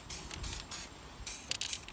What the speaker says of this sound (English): Basically, I'm just spraying